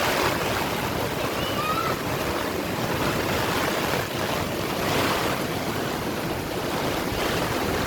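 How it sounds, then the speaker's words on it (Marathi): Rough, churning sea waves pound Kunkeshwar beach in heavy rain, a loud continuous roar with wind buffeting the microphone throughout. "बीच पाणी तर लय खवळलेलं दिसते"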